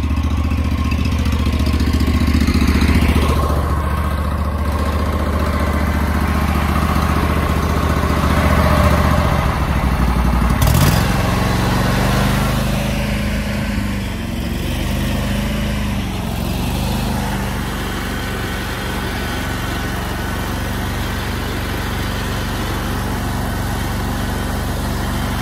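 A small stump grinder's engine runs loudly nearby, droning steadily at first, then dipping in pitch partway through and settling into an uneven, slightly lower rumble.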